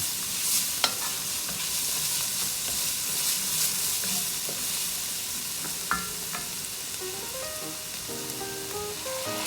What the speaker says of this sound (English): Then we're gonna deglaze this with some red wine.